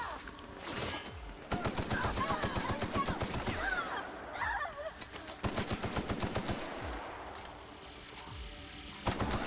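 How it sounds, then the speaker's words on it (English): Rapid bursts of automatic gunfire from enemy insurgents in the Outer Worlds video game, loud and repeated in several clusters with brief pauses between. "now they're shooting at me"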